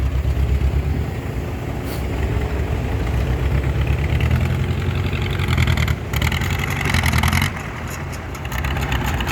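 A farm tractor's engine idles steadily with a low, continuous rumble throughout, close by and fairly loud, with no talking.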